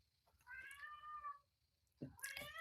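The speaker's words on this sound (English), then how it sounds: "I have to let the cat in because she's very loud." A house cat meows loudly outside, wanting to be let in: a long, drawn-out call, a short pause, then a second sharp meow, with faint room sound between.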